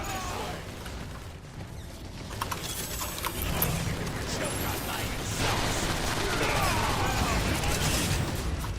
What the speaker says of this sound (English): swapping over to my fucking sniper rifle